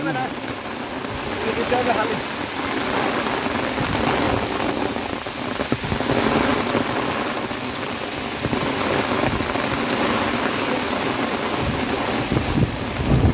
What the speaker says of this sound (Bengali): প্রচণ্ড পরিমাণে বৃষ্টি হচ্ছে। তো বজ্রপাতও হচ্ছে